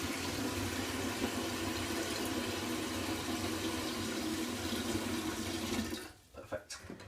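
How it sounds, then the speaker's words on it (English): Clean cold water from a tap runs steadily into the tank of a Neptune AquaFilter vacuum cleaner, a constant close rushing sound that stops abruptly near the end, followed by a few brief knocks. "it's just clean, cold water, nothing special, just straight out the tap."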